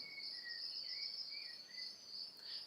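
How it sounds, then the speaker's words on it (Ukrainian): Cicadas call without a break in the background outdoors, a steady high-pitched buzzing drone that stays fairly faint and even throughout, with no voices. "тут дуже кричать цикади весь час"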